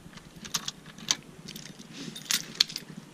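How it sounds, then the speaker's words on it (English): Car keys jangling at a scrapyard, a few short metallic clinks and rattles with quiet gaps between them, close but fairly soft. "I found some car keys for this car here"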